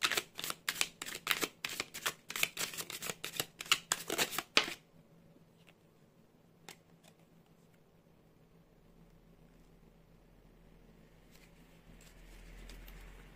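Tarot cards are shuffled in a quick run of crisp riffling flicks for a few seconds, then everything falls to near silence with a faint low hum.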